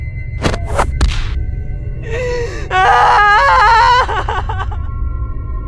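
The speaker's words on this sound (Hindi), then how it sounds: "ये चुड़ैल तो जमीन पर गिर चुकी है और ये दर्द से तो काफी चिल्ला रही है" A cartoon witch wails and screams in pain after falling to the ground, a few sharp gasping cries followed by a loud, wavering drawn-out scream that trails off.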